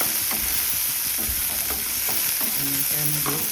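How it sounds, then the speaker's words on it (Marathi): Chopped tomato fries in hot oil while a spatula stirs it, a continuous close sizzle broken by repeated scraping strokes against the pan, with no voices. "टमॅटो टाकला आणि टमॅटो टाकून चांगला परतून घ्यायचा"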